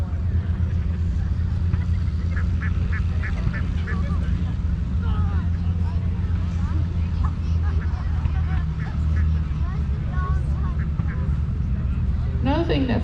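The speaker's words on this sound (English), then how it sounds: "Another thing that's great about using Indian runner ducks, because they flock well, they tend to stick together." Indian runner ducks quacking in short repeated bursts as a flock is herded outdoors at a harvest festival, over a constant low engine-like rumble with people talking nearby.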